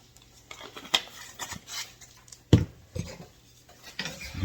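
A spoon scraping and clinking inside a pot of seasoned chili as it is stirred, with scattered metallic taps and a couple of sharper knocks against the pot's side.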